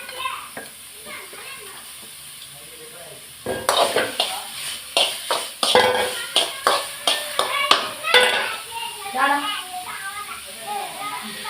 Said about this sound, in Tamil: கடுகு பொடியுது